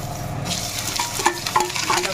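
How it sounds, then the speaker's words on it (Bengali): Grated ginger dropped into hot tempering oil with whole cumin for khichuri, a close, steady sizzle with a few metallic clinks of a spatula against the pan. "আদাগুলো দিয়ে দিলাম"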